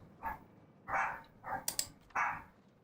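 A dog barks several times in short separate bursts, moderately close and fairly quiet, with a brief sharp click between barks, during a livestream of the theme-park building game Planet Coaster.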